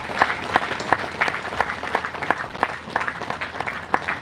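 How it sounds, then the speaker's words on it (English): Steady applause from a gathered audience at a youth convention's inaugural programme, many hands clapping continuously and fairly close, dense and even throughout with no talk over it. "Shall we all give a big round of applause?"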